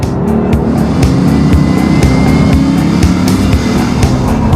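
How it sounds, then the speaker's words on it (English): A Bugatti Veyron chases a Rimac Concept One along a Croatian coast road, with loud, continuous engine and tire roar and rapid rhythmic thumps from the road surface, close and without talk. "chasing a Rimac Concept 1 in a Bugatti Veyron"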